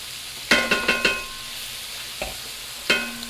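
Sausage and winter vegetables caramelizing in a skillet, with a cluster of sharp scraping stirs followed by a few more spaced-out stirs over a soft, low sizzle.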